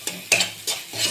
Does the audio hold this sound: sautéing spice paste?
yes